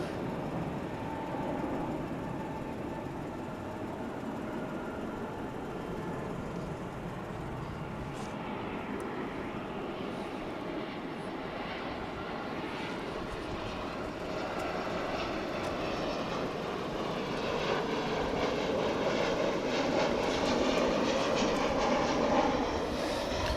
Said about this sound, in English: There goes American Flight 1241, the one we don't know where it's going to.